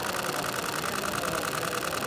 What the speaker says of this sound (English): Can you hear the shutter speed?